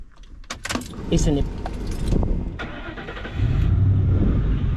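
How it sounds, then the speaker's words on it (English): A Ford Econoline 250 van starts up: keys jangle and clatter first, then the engine cranks and catches into a loud, steady idle rumble in the final second, with a voice talking over the early handling noises. "There you go. The car starts."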